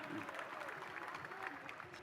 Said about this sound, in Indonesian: Tepuk tangan untuk Ibu Wawali,